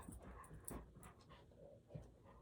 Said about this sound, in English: Come on, dog.